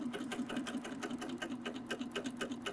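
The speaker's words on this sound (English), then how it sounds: "Now as I come to the end of my fabric, I'm going to stitch off." A Baby Lock Applaud sewing machine stitches off the end of the fabric, running in a fast, even rhythmic whir of needle strokes, quiet and close with no talking.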